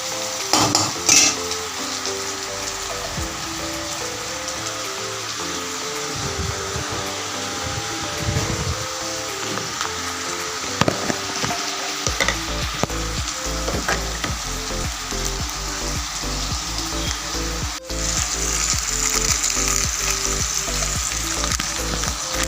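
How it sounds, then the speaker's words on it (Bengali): Potato and pointed gourd fry in a pan with cumin powder and chili, a steady close sizzle under a humming fan, with repeated scraping stirs and metal utensil clinks that grow busier and louder in the second half. "এখন তো কষাচ্ছি কয়টুকু লাগবে"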